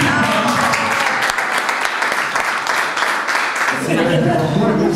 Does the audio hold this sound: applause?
yes